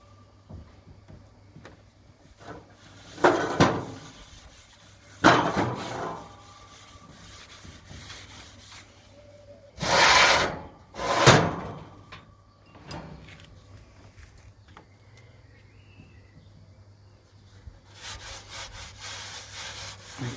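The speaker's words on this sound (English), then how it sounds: "bit of paper towel, just wiping all the surfaces" An oiled paper towel is wiped across the grill surfaces of a Masterbuilt Gravity Series 560 during seasoning, giving several separate bursts of close scraping and rubbing strokes with quiet pauses between them and no talking.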